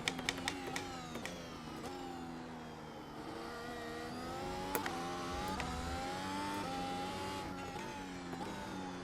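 A Mercedes W13 Formula 1 car engine in iRacing screams at high revs, its pitch rising and dipping through corners and gear changes in a continuous, fairly faint whine with no talking.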